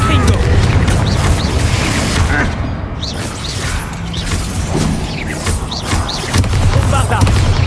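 Confringo spell explosions in a video game go off as a dense, loud run of booms, crashes and clattering debris. The blasts hit one after another over a low rumble and keep going the whole time.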